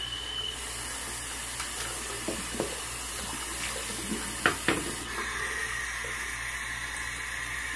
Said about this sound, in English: Rinse the puck real fast.